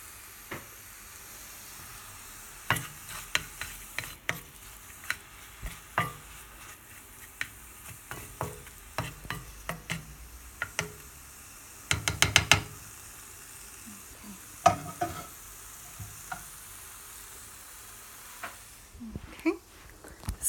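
Carrots cook in honey in a pan, giving a quiet background sizzle broken by scattered scraping and clicking as they are stirred, with a dense burst of stirring partway through.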